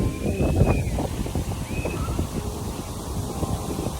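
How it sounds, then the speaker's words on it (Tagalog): Strong gusting wind on a Siargao island outing buffets the microphone, a loud continuous low rumble with sharp bursts throughout, with faint bird calls and brief voice sounds above it. "Sobrang hangin siya."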